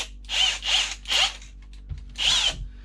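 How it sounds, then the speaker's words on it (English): A power drill bores into the corners of a boat panel in four short whining bursts, each revving up and stopping, close and loud with brief quiet gaps between. "I'm just going to drill the corners basically."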